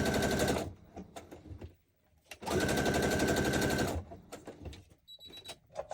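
A sewing machine stitches around a piece of card in two loud, rapid bursts of roughly a second and a half each, separated by quieter gaps of handling noise.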